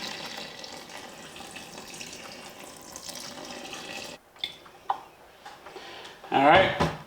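Water, 900 millilitres in all, pours into a bowl of sourdough starter for a boule, a steady gurgling splash that stops abruptly, followed by a few light clinks and handling noises.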